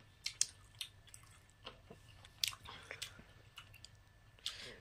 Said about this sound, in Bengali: আঙুরটা খাচ্ছি